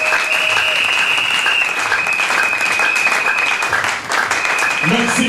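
Loud, sustained applause and cheering from a church congregation, with a steady whistle or held tone running through it and voices mixed into the crowd.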